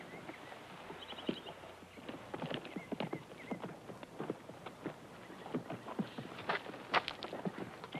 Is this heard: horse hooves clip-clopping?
yes